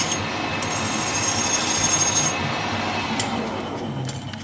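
Hand tool scraping along the edge of a steel frame part on a custom chopper build, a steady continuous rasping rub, close and moderately loud throughout with no talk.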